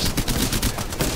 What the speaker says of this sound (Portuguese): Vamos dar tiros.